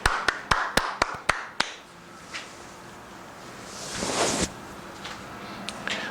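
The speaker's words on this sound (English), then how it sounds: "A welcoming round of applause, if you will, for Pastor Flash." Welcoming applause for Pastor Flash at the Bedrock Agnostic Church: a short run of sharp, sparse claps from a small group, then a brief rustling swell and a few scattered final claps.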